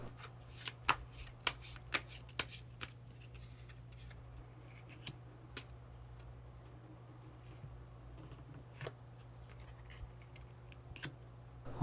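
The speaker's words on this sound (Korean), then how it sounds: "그러면 마지막으로 히든 카드 한 장 더 뽑아보도록 하겠습니다" Tarot cards are shuffled and drawn at close range, with a quick burst of crisp riffling snaps at first that gives way to sparse, faint card flicks over a steady low hum. No one speaks.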